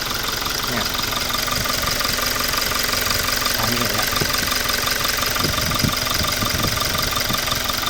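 Toyota Revo pickup engine idling after an intake manifold cleaning, a steady, loud idle with a persistent knocking rhythm throughout.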